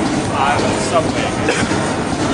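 A New York subway train running, with a steady loud rumble and rushing rail noise filling the clip and no clear pauses.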